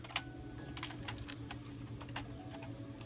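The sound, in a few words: screwdriver removing laptop screws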